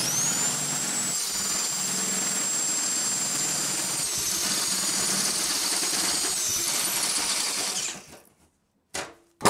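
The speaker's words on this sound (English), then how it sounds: "So I'm going to use a step bit and enlarge that." A power drill with a step bit whines steadily with a harsh high metallic grinding for several seconds while enlarging a hole in the metal of a Harbor Freight Dual MIG 131 welder, then spins down, followed by brief clatters.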